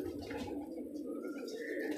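Low, throaty cooing from several Madrasi pigeons fills a loft, a continuous soft rumble of overlapping calls heard close by with no talk.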